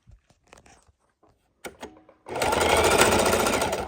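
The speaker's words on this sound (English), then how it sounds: "And we're going to sew up the side." Sewing machine stitching up the side seam of a quilted fabric book bag, a steady loud whirring run that starts after a few soft handling clicks and continues to the end.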